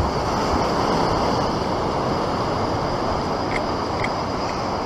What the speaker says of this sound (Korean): 파도는 이제 옆에서 치고